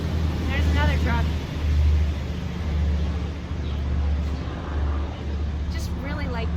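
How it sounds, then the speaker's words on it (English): A truck rumbles past outdoors, a steady low drone rising and falling beside a green shed, with a helicopter and wind also around and a person talking over it. "There's another truck."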